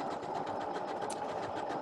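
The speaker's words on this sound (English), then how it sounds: "And I'm stitching around again." Sewing machine running steadily through decorative serpentine stitches, a continuous close mechanical whir with rapid needle rhythm throughout, no voices.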